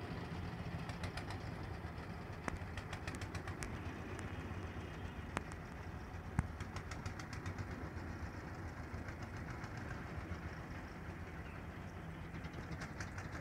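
Continuous low engine drone from a fishing boat running on a river during prawn fishing, steady and fairly quiet, with a few brief sharp knocks and clicks over the hum.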